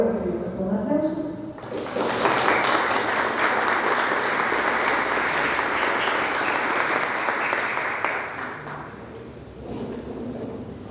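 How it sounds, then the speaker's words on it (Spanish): A conference audience bursts into loud, sustained applause welcoming a doctor to the stage, following brief talk, then fading to quieter clapping near the end. "Por favor, lo recibimos con un aplauso."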